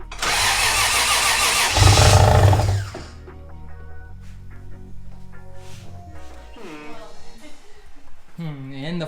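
A Toyota 1JZ engine swapped into a Nissan S14 cranks loudly and catches, then settles into a lumpy, uneven idle with faint talk over it.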